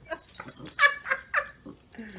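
Two dogs wrestle and play indoors, one of them large and heavy-set, giving off scuffling, snuffling and short yips in uneven bursts while a person murmurs quietly close by.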